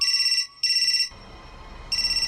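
A mobile phone ringtone plays nearby as bright repeating electronic tones that stop briefly, then start again.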